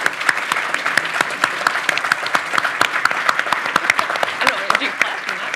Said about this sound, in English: could everybody please give a round of applause to our panel?